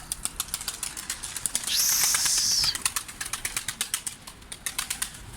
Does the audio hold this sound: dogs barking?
no